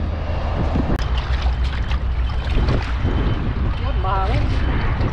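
Strong wind buffets the microphone at a dam, a loud continuous roar with gusty rumble and water noise, while a voice speaks briefly partway through.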